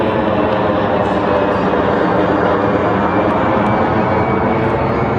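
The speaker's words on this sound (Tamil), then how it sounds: "அதனால வந்து நீங்கள் நிறைய ஃப்ளைட்டோட டேக் ஆஃபு லேண்டிங்கு இதெல்லாம் வந்து நீங்கள் பார்க்கலாம்" An airplane takes off or lands at Bahrain's airport beside a beach, a steady, loud roar of engine noise lasting throughout with no break.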